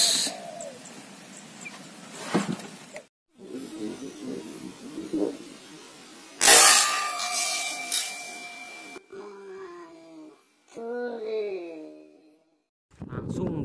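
Soft hooting coos of a turtle dove come in short repeated phrases during an outdoor dove hunt, alternating with someone talking and brief handling noises.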